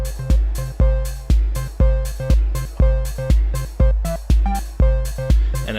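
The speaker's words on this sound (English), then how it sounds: "And I grab a 4-beat loop, and it's perfectly in time with everything else." A looped electronic drum beat from a drum machine, captured as a 4-beat loop on a Kaoss pad, with punchy kicks and snappy hits repeating in a steady, even rhythm, loud and alone with no talking.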